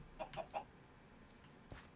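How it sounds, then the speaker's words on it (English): Chickens in Minecraft with the TerraFirmaCraft mod give a few quick faint clucks in a short burst, followed by a single soft thud. "We can't have no chickens just running around crazy like this."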